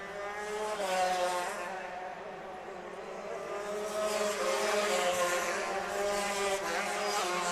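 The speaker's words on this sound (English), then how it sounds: "And then it's Skitchy Barnes in the number 9 cart running in fourth" 125 Modified racing karts drone steadily around a race track in a grand prix, a continuous high buzzing engine note heard at a distance and fairly faint, rising slightly as karts pass.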